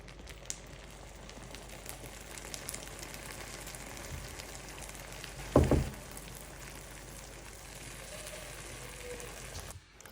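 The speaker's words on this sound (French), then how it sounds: "Une fois cuit, versez le sirop froid sur la baklawa chaude." Cold syrup poured over hot, freshly baked pistachio baklava sets off a steady crackling sizzle, close and continuous, with a short louder burst of hissing partway through and no talking.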